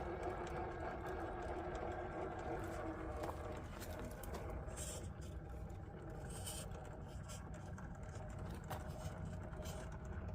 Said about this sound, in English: This Spectrum Firma brushless system I put in here is just amazingly smooth.